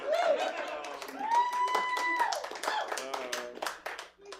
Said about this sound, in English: You don't have to clap for me or anything.